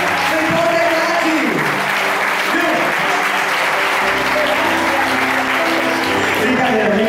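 A church congregation applauds loudly and steadily through the whole stretch, a dense continuous roar of clapping with a sustained musical tone running underneath.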